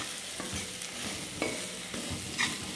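Potato fry being stirred in a hot iron wok, the oil sizzling steadily while a spatula scrapes through the pieces in several distinct strokes, with no talking.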